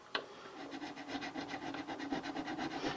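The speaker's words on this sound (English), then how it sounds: "You could probably hear the 300 grit does not cut in like that 150 grit did." Steady rhythmic rasping as 300 grit sandpaper is worked back and forth over the frets of a 60-year-old Kay K300 Montclair guitar, close and continuous with evenly spaced strokes.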